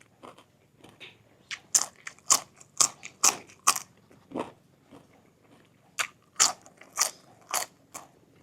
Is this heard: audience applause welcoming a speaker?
no